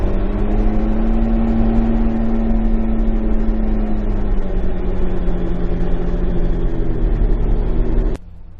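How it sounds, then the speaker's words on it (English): A Kubota RTV-X1100 utility vehicle fitted with a front-mount snowblower idles with a loud, steady engine drone that shifts in pitch partway through, then cuts off abruptly near the end. "When you step on that gas pedal now, you can hear the engine RPM pick up"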